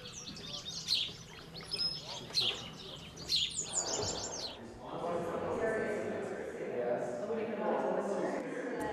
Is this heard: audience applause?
no